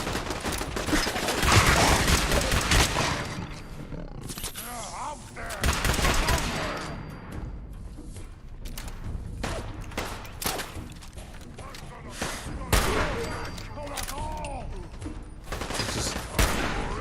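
Enemy gunfire in Fallout 4, a dense run of rapid shots and automatic bursts crackling through the whole stretch, with someone talking over the shooting at times.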